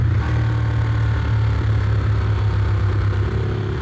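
A tuned Ducati Streetfighter 1098 S motorcycle engine idles steadily, a deep, even rumbling throb with a constant low pulse, close and fairly loud, with no voices over it.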